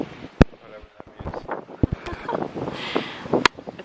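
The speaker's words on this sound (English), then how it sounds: "It's probably too windy to even hear me right now" Wind blowing into a microphone outdoors on a hot day, gusty rumbling and buffeting under a person talking, with several sharp pops and knocks.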